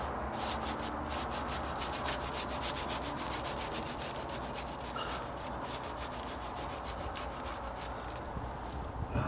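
Hand sanding excess sand off a dried stucco patch during a dry rot deck repair, a steady close scratchy rubbing that runs continuously with no talk.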